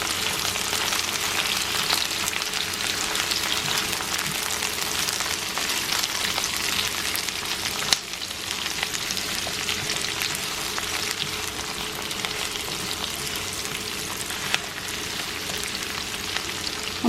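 Mushrooms frying and being stirred in a pan on the stove: a steady, close sizzle with a constant hiss and scattered crackling pops, running without a break and without any talk.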